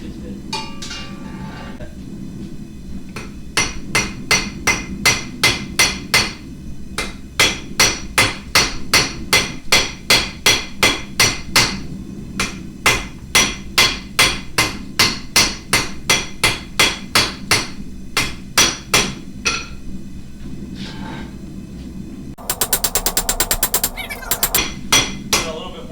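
A blacksmith's hammer rings on hot steel being squared and tapered into a hot dog roaster, delivering long runs of sharp, evenly spaced strikes close up, with brief pauses between bursts and a quick rapid flurry near the end.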